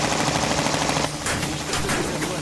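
Rapid automatic gunfire in the Repella Fella video game, a dense rattling burst that drops off briefly and resumes with sharper cracks, loud and close with no voices.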